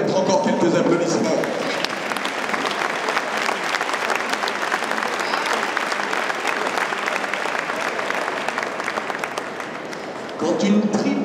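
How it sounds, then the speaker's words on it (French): Sustained audience applause at a dressage clinic in an arena, a steady crowd clapping for about ten seconds, moderately loud, with a voice briefly heard at the start and end. "Je pense que vous pouvez vous permettre encore quelques applaudissements."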